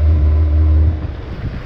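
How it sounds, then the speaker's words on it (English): A Nissan Altima roars through a water burnout, a loud deep engine drone that drops off partway, followed by rougher rumbling with spinning and splashing noise. "Now we do a water burnout."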